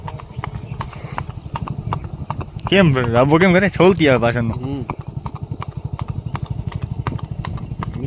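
A mare walks with steady, close clip-clopping hooves throughout, while people chat over the footsteps and a neigh-like vocal burst rises in the middle.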